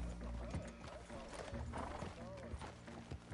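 Hooves of a black Arabian horse clip-clop steadily in Red Dead Redemption 2 while people talk over them throughout.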